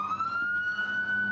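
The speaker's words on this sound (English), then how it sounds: "Hold on, wait for this ambulance to go by." Ambulance siren sounds on a street, holding a steady wailing tone throughout at moderate distance with traffic rumble beneath.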